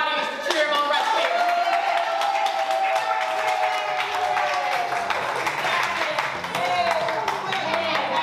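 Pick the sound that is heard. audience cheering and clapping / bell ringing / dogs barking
audience cheering and clapping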